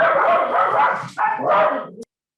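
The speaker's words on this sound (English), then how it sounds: "Yikes, somebody's dog is here." During a town committee meeting, a dog barks in two loud, close bursts about a second apart, ending abruptly.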